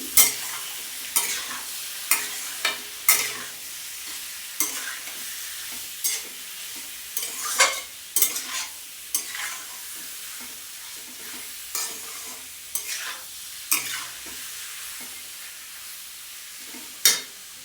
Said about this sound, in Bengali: এর মধ্যে দিয়ে দিচ্ছি নুন, দিয়ে আবার ভালো করে নাড়িয়ে নিচ্ছি